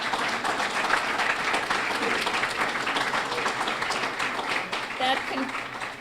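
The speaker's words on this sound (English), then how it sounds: "Round of applause for him." Applause from a dinner audience at a grand marshal banquet, steady and full for the whole stretch with a few voices mixed in, fading slightly at the end.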